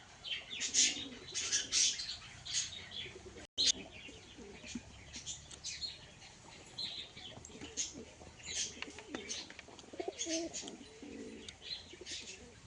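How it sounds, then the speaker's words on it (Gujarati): Pigeons coo softly nearby while wings flap in bursts, with small birds chirping now and then in the background. "આ છે મિત્રો આપણા કબૂતર।"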